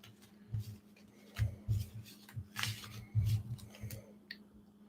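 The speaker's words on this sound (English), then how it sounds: "It makes me shuffle for a minute and a half every time." A tarot deck is shuffled in soft, repeated bursts of card riffling and rustling, quiet and close, with an uneven rhythm and no talking.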